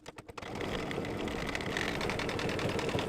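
A sewing machine tacks down the edges of a black appliqué on a quilted mug rug. A few quick stitches are followed by a steady, close, rapid mechanical whir with no talking.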